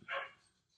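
A single short bark from Reacher, a pet dog indoors, fairly close, followed by quiet.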